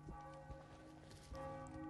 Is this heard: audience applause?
no